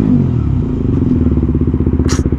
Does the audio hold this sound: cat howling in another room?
no